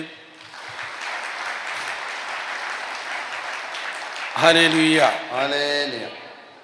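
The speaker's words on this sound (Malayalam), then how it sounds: "ഒന്ന് കൈയടിച്ചേ" Audience at a church sermon applauding steadily for several seconds, a dense even patter of many hands, followed by a voice speaking clearly over the fading clapping.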